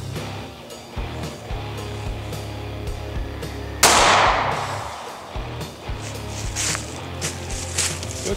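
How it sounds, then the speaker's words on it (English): A single loud, close gunshot from a short-barrel Glock firing a 9mm 124-grain Hornady XTP round into ballistic gel, a sharp crack followed by a rolling outdoor echo amid low background rumble. "124 grain XTP short barrel 9 out of the baby Glock"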